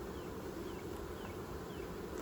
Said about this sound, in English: Still got a lot of bees in there.